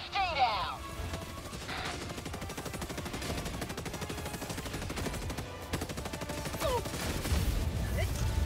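A tank in Helldivers 2 lays down heavy gunfire, rapid dense bursts of shots and impacts that stay loud and sustained throughout, with a player's voice briefly heard over the barrage.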